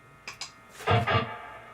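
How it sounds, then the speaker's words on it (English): A few quiet plucked electric guitar notes, then two louder strummed chords that ring out and fade smoothly with a reverb tail. "You hear the reverb? It's a natural decay down"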